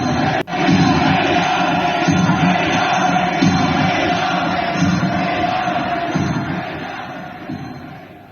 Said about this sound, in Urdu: ایرانی پرچم لہرا کر حکومت کی حمایت میں نعرے بازی کی۔